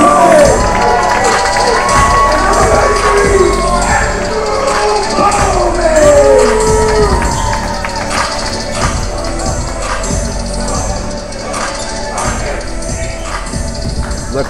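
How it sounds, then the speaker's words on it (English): A loud college basketball crowd at a Bible college NIT men's game between Trinity Baptist and Johnson roars and cheers continuously, with shouts and whistles rising over the dense din before easing slightly. "The crowd is loud"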